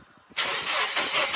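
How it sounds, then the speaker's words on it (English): A Mercedes W124 with a suspected idle control valve fault cranks and catches, the engine bursting into a loud, rough start after a brief quiet moment. "So I tried to start it up."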